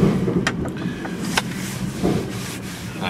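A hand dolly rolls across a loading dock into a truck, giving a continuous rumbling, rubbing roll with a few sharp clacks and knocks as the wheels cross seams, fairly close and steady, with no talk.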